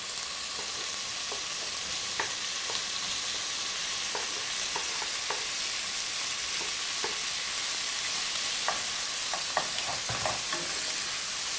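Chicken breast pieces sizzle steadily in a hot pan while a spatula stirs them, with scattered scraping clicks over a continuous frying hiss, close and fairly loud, with no talking.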